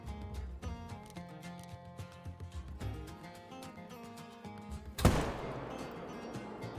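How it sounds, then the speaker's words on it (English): A single loud, close 7mm hunting rifle shot in a hunting video game rings out near the end with a rumbling decay, following several seconds of quieter tonal music or ambience. "This 7mm really does pack a punch, and the sound is really amazing as well."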